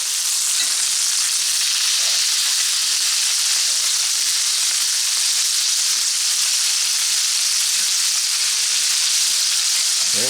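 Beef tenderloin steaks fry in a pan with a loud, steady sizzle and hiss that holds unbroken throughout, with faint stirring clicks underneath.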